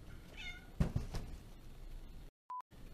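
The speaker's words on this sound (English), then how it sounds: "And a cat." A cat meows a few times close by, the calls short and clear against quiet room tone, followed by a brief electronic beep.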